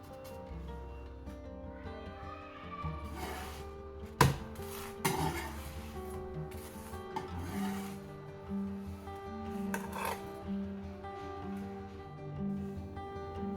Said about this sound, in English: Place this crust gently on the tawa for about 1 minute on each side.